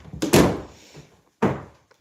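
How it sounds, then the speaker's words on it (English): A door swings shut with a couple of close, dull wooden thunks, the second one louder and sharper, in an indoor craft space with no talking. "Close the door."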